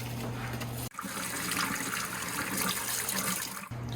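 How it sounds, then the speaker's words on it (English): Running tap water pours steadily over a big handful of fresh asparagus being rinsed, a continuous splashing flow with a brief break near the start and another near the end. "And now we need to take us a big handful of asparagus and rinse it off."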